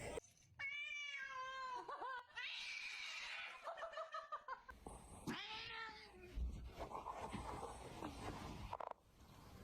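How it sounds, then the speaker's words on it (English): Several cats meow and yowl in a drawn-out, wailing series, up close and loud, with a voice talking softly now and then between the cries. "Evil kitties."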